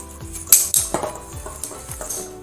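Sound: mixing Epsom salt and table salt for bath salts

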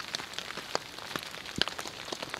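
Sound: rain falling on a tarp at night

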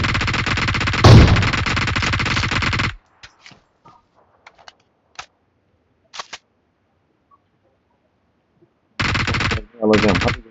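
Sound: gunfire in the video game PUBG Mobile

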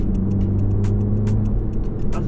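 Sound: 2022 Honda Civic 11th gen with Stage 1.5 tune accelerating

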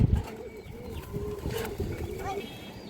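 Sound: pigeons cooing

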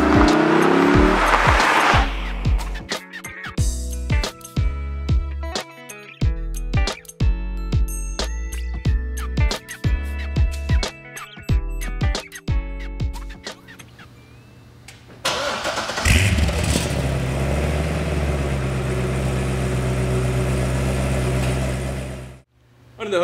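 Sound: 2009 Chevrolet Corvette Z06 V8 engine running

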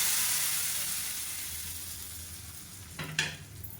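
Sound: tempering mustard, cumin and curry leaves in ghee

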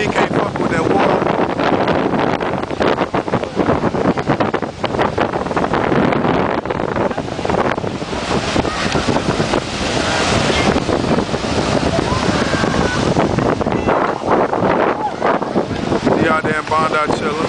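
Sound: waves and wind at Bondi Beach, Sydney

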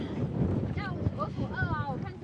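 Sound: strong wind on a boat at Lake Kawaguchiko

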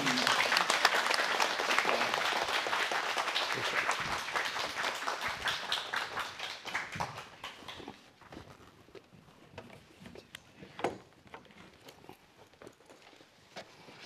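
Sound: applause

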